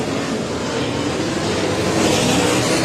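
Sprint car engines roar at a dirt speedway race at Heart O' Texas Speedway, including the 17G car of Shannon Tankersley, making a loud, dense, unbroken wall of engine noise that swells slightly toward the end.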